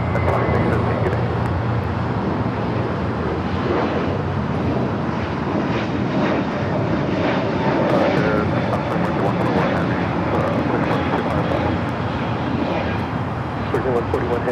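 A United Airlines Airbus A321neo takes off from LAX, its jet engines roaring loud and continuous throughout, with voices talking over the noise.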